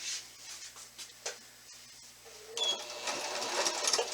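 A sewing machine backstitches while binding a quilt, a brief quiet whir at first, then a denser, steadier run of stitching that builds toward the end.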